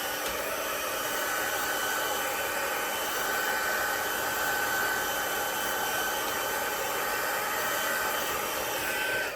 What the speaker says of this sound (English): And I'm going to bring in my heat tool.